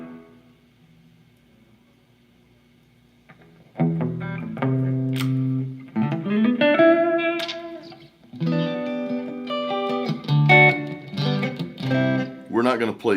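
Electric guitar through a Blackstar MKIII half-stack amp at 10 watts, with a clean tone and reverb: quiet low noise at first, then strummed chords and single notes ring out with sustained, reverberant tails in uneven bursts.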